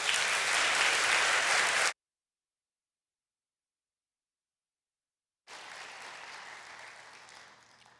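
Church congregation at a Sunday service applauding warmly, a dense burst of clapping that cuts off, then after a silent gap a second softer round of applause that gradually fades.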